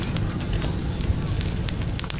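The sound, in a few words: charcoal fire with small blower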